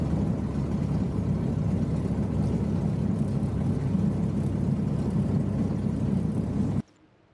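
A Zenith STOL SkyJeep light aircraft with a Continental engine and whirlwind propeller, fitted with snow skis, roars at full power on takeoff in winter, a loud, steady, close drone that cuts off abruptly near the end.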